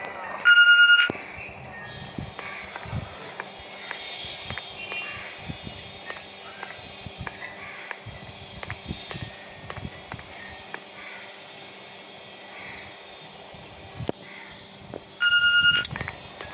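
Two short electronic beeps from an answering machine in the video game The Walking Dead Season 1, one at the start and one near the end, over a quiet room with scattered soft knocks and clicks.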